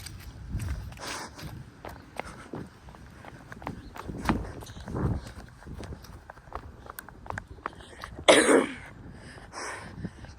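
A person coughs outdoors in a neighborhood, a few harsh scattered coughs and throat clearing among footsteps and background noise, with one loud burst near the end.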